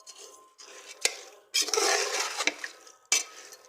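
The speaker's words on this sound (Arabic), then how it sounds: "قليل من الزيت، نحركه، نخلط جميع المكونات مع بعض" Oil and chicken with other ingredients stirred in a pot for chicken ouzi, a spoon scraping and clinking against the metal in several bursts, close and fairly loud with brief pauses between strokes.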